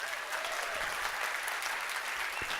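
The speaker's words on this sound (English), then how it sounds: "Big round of applause for our lovely baton twirlers" Audience applause for baton twirlers at a San Francisco opening event, a dense, even wash of clapping heard from a distance and fairly faint, continuing steadily.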